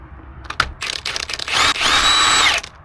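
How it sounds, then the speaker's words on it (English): An impact wrench drives a bolt on a car in a few short, close bursts, then one sustained whirring run of about a second before stopping. "use your impact and just go like this"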